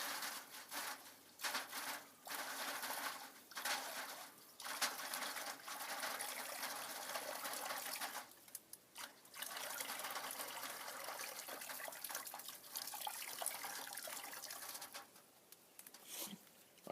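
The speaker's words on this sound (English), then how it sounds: "Now I am adding water." Water pours into a smoker being readied for a pork butt, a close, continuous splashing gush broken by brief pauses as the stream stops and restarts.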